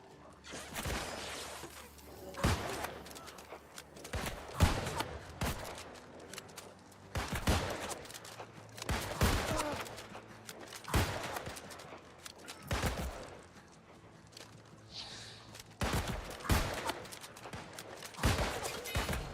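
Gunfire in New World: Aeternum, a fantasy online game, aimed at the player: irregular bursts of sharp gunshots and volleys repeat every few seconds across the scene, fairly close and loud.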